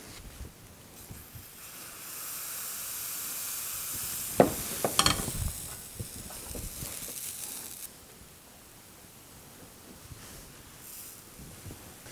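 Crêpe batter cooks on a Krampouz electric crêpe maker with a soft, steady sizzle that swells in the middle. A few brief scraping strokes come from spreading the batter, then the hiss settles low and quiet.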